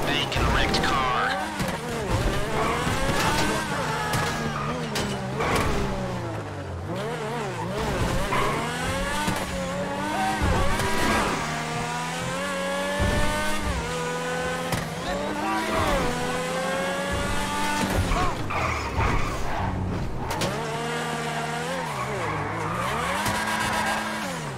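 A car in GTA Online drives hard with an engine that revs up and down and tires that squeal through turns, loud and continuous, with voices talking over it.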